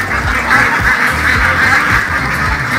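A dense flock of more than a thousand ducks quacks continuously on a duck breeding farm, a loud and steady chorus with no gaps.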